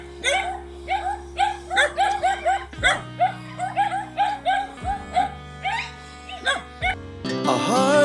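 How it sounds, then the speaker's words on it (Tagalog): Repeated dog barks and yips in quick succession, fairly close, over a steady background tone, with a brief burst of other sound at the end. "Dami aso."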